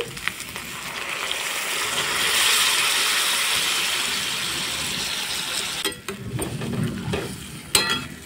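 Water goes into a pan of potatoes being fried with spices, a soft sizzle and steamy hiss that swells then settles, followed by a few clattering utensil knocks near the end, close by with no talk.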